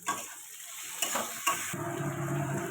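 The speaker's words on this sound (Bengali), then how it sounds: "দিয়ে দেবো টমেটো। এটা ভালো করে কষাতে থাকবে।" Tomato stir-fried in a pan for a paneer curry: a steady frying sizzle with a few sharp scrapes of stirring, close and fairly quiet, with no talk.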